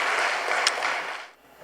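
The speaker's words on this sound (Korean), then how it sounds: "다시 한번 우리 따뜻한 박수를 한번 주시기 감사합니다." A church congregation applauds during a Sunday afternoon worship service, a dense and steady wash of clapping that fades out near the end.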